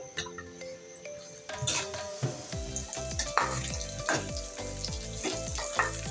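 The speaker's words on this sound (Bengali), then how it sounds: "পেঁয়াজটা আমি ভালো করে তেলের সাথে ভেজে নিই।" Chopped onions frying in oil in a wok (kadai) for bitter gourd bhaji, a steady sizzle broken by repeated scraping stirs of a spatula, close and moderately loud.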